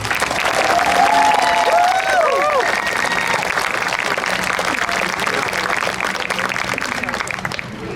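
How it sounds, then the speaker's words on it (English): An audience applauds at a Moose Lake Blue Ribbon City ceremony, with steady, dense clapping that fills the room for the whole stretch, and a few voices and whoops ring out over it. "A round of applause for Mr. Deering."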